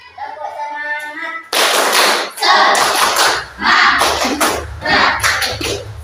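A school class doing the rhythmic Indonesian 'tepuk semangat' spirit clap, several loud bursts of many hands clapping together in patterned groups, preceded by a brief stretch of a teacher's voice.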